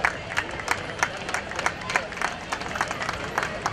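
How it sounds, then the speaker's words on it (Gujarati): Many hands applaud at a mass wedding ceremony, with sharp, steady clapping repeating through the whole stretch and a general crowd murmur underneath. "જોરદાર તાળીઓ સાથે વધાવશો"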